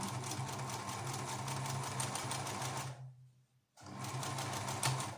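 Home sewing machine stitching a fabric face mask, a fast, steady mechanical whirring and needle rattle up close that stops for about half a second, then resumes at the same pace.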